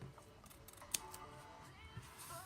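Scissors snip through wrapping paper while a paper bow is being made, one sharp close cut standing out amid faint rustling and quiet handling noise.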